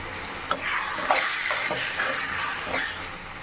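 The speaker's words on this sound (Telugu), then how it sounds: "బాగా ఉడికిద్ది బాగా మగ్గిందండి ఇంకొక ఐదు నిమిషాలు ఉడికాక స్టవ్ ఆఫ్ చేసుకో" Peanut and tomato chutney simmering in a pan, with a soft continuous sizzle and occasional louder stirring scrapes at a steady close level, no voices.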